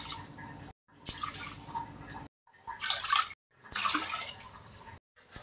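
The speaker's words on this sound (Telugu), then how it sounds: "4 కప్పులు నీళ్ళు పోసుకోవాలి" Water is poured from a cup into washed rice and moong dal for pongal prasadam: splashy, gurgling pours come in separate bursts with short silent gaps between them, close by.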